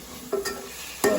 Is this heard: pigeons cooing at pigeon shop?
no